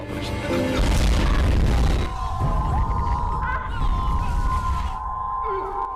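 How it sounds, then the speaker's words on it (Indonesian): A heavy booming blast as a car explodes, with rumbling crash and debris, loud and close, fading into a lingering roar and ringing tone. "Parahnya lagi, mobil yang membawa ayah Viswa meledak."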